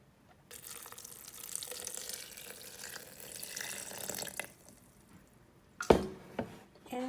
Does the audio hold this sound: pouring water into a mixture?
yes